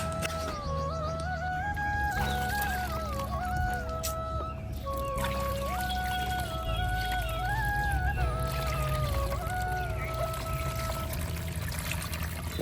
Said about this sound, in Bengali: এর উপরে হালকা করে এখন জল দিতে হবে